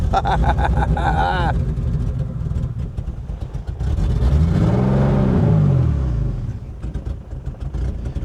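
Engine of a classic BMW 633 CSi revving near at hand, one rise and fall in pitch as it strains to move forward, with someone talking over the engine.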